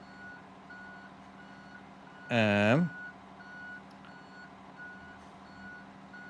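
Truck reversing alarm in a European trucking video game, a steady series of evenly spaced beeps repeating throughout, with a brief loud horn-like burst partway through and a voice speaking briefly.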